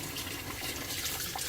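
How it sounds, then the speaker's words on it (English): Water runs steadily from a tap while crabs are scrubbed with a toothbrush in a sink, a constant close splashing wash with no pauses or talk. "We are washing the crab now. Taking the teeth brush."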